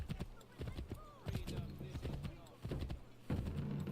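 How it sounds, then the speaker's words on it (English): Horse hooves clip-clop in Assassin's Creed III as a horse is ridden through the streets of New York City, steady repeated footfalls with game ambience underneath and fairly close. "riding a horse through New York City"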